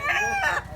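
A young gamecock stag gives a brief, close crow in two quick raspy segments, loud and clear over a faint low background.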